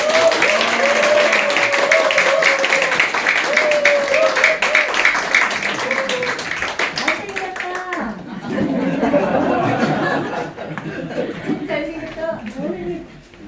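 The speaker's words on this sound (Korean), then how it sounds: "우리 함께 환영과 기쁨의 박수로 맞이해 주시기 바랍니다." A congregation at a Sunday church service claps to welcome a lay speaker to the pulpit. The warm applause mixes with murmured voices, then gives way to talk and light chuckles.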